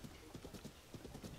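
Horse hooves clip-clop in a brisk, steady rhythm in Zelda: Tears of the Kingdom, the quick even beats close and clear with no talk over them.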